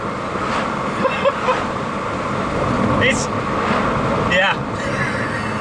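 A 288 bhp R56 Mini Cooper S engine roars steadily from inside the cabin with a window open, a constant broadband drone with voices talking over it.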